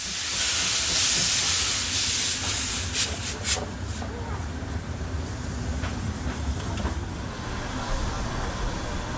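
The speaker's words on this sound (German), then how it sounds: "unsere Dampflok kehrt wieder zum Zug zurück." A steam locomotive hisses loudly at first, then rumbles and rubs along the track with scattered metallic clanks and squeals, heard from close by without talk.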